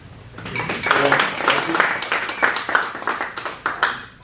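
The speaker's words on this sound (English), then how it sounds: "Please, a round of applause for them." A room of guests claps in a dense, steady round of applause at a venue event, with a short spoken thanks over it.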